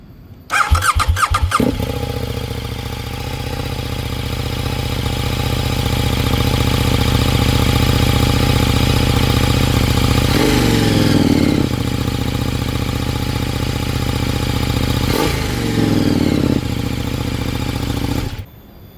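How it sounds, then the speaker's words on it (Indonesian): A KTM Super Duke 1390 R motorcycle with a roughly 1350 cc engine starts with a sharp burst, then idles loudly and close, rising in two throttle blips before cutting off. "Penasaran sama suaranya kayak gini nih guys."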